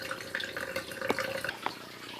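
Aquarium water siphons through a Python water changer at a sink, giving soft trickling and gurgling water with light drips, steady and close, with no voices.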